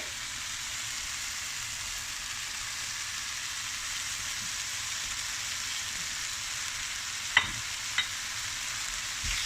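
Egg puff masala with coriander cooks in a pan, giving a quiet, steady sizzle with faint stirring and two small clicks near the end.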